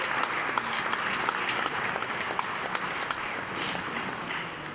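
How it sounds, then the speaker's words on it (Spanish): A crowd at a handball event applauds in a steady wash of clapping with a few sharper individual claps standing out, heard from a moderate distance. "para dar un aplauso"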